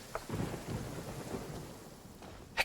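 A thunderstorm in the video game Genshin Impact rolls with low rumbling thunder over a steady wash of rain, a few sharper cracks breaking through near the start and end, with no talking.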